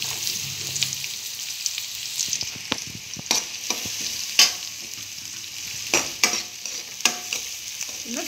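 Onions frying in hot oil with cumin for a roti dish, a close steady sizzle broken by repeated sharp scraping stirs of a spoon against the pan, with no talking.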